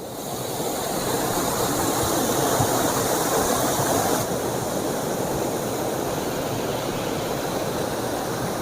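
Phurlijharan waterfall near Bhawanipatna, Kalahandi, Odisha, roars steadily and close by, a dense, unbroken rush of falling water with no voices.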